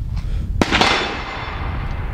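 A single sharp pistol shot cracks close by at a shooting range, followed by a brief second report and a ringing decay into the open-air background.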